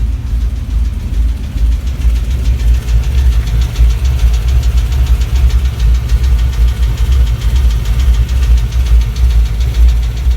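A failing engine in a 2001 BMW M5 runs with a loud, steady rumble and a rapid rhythmic knocking ticking through it, heard close up and alone for about ten seconds.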